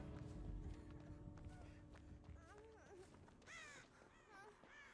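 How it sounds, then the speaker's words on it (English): Crow in the video game Dead by Daylight cawing several times amid footsteps and ambient game sounds, the harsh calls rising over a low background. "Shut up, bird."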